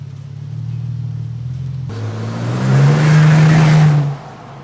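A 2024 Lexus GX550 with a Magnaflow aftermarket exhaust idles with a low drone, then revs and accelerates with a deep throaty exhaust roar before settling back down.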